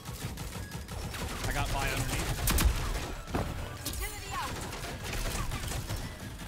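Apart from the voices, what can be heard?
SMG gunfire in the Rogue Company video game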